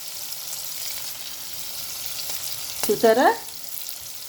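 Bitter gourd frying and being stirred in a pan for a Telugu-style curry, with a steady soft sizzle throughout and a brief spoken word near the end.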